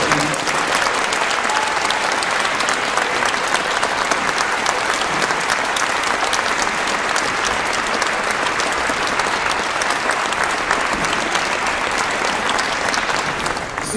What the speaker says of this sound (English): Will you please give him another round of applause?